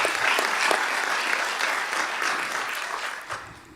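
A room full of people applauds at a quarterly board meeting after SkillsUSA students are recognized; sustained even clapping that slowly tapers toward the end.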